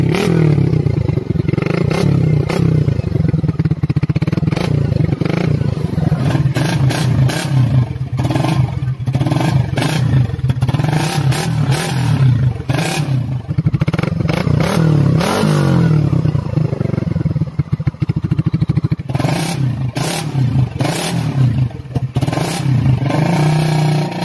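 Motorcycle fitted with a first-generation exhaust canister, idling and revving repeatedly for a long stretch, with a rough, throbbing note, rising bursts and some rattly clatter, close and steady with no speech.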